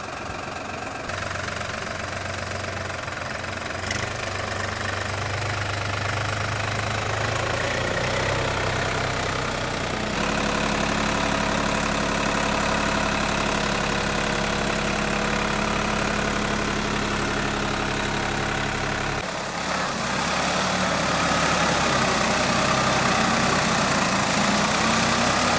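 A 60-horsepower Indian-made tractor engine runs steadily and loudly nearby, a rough knocking diesel idle with shifts in pitch and load partway through.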